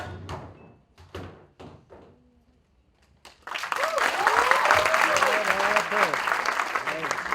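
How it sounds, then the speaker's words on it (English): An audience at an NM College festival bursts into loud, sustained applause after a performance, following a few sharp thuds and a voice, with cheers mixed into the clapping. "Please give him a huge round of applause for a fantastic performance."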